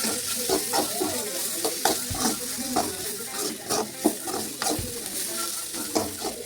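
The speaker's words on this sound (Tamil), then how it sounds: "ஒரு ஹாஃப் பேக்கெட் ஸ்பைசஸ் வந்து இந்த எண்ணெயிலே போட்டு லைட்டாக சாட்டே பண்ணிக்கலாம்." Spices sauté lightly in oil in a pan for millet noodles, a bright continuous sizzle with repeated spoon scrapes and taps against the metal, close and moderately loud.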